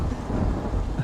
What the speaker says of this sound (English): A lightning bolt crashes nearby.